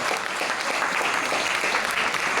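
Audience applause fills a Tamil film pre-release event after a song, a dense, even roar of clapping from a large crowd with no talk over it.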